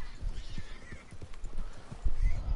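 A wild grey horse in the video game Red Dead Redemption 2: hooves clopping in an uneven rhythm close by, with a snorting whinny and a heavier thump near the end, no talk.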